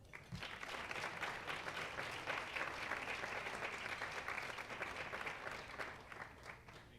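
Sustained audience applause greets a speaker coming on stage at a conference talk, a dense, even wash of clapping from a large crowd, fairly distant and continuous throughout.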